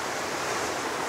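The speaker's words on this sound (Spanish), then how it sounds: "Esto es una de mis playas favoritas acá en San Diego." Ocean surf at Windansea beach in San Diego, a steady broad hiss of breaking waves and wash, fairly soft and continuous, with no voices.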